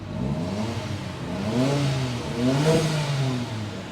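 A 2021 Daihatsu Copen GR 660 turbo convertible engine with twin exhausts revs up and down a few times, the pitch rising and falling in smooth swells, fairly close and alone.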